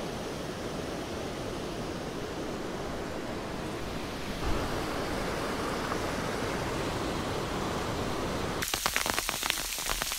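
Rushing creek water, steady broadband roar close by that swells louder midway, then shifts to a sharper, spattering rush in the final seconds; no voices.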